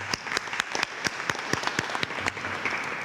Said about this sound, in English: So I think they deserve a round of applause as well.